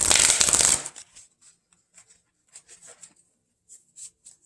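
Tarot or oracle cards are shuffled in a loud riffling burst, followed by a string of soft, sporadic card slides and taps.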